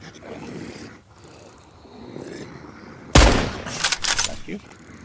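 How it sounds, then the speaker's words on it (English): Gunfire in the zombie survival video game Mist Survival: a quiet stretch, then a sudden loud shot about two-thirds through, quickly followed by a few more sharp rapid blasts. "I think I need to work on my shooting a little more so I can be, you know, proficient with my ammo."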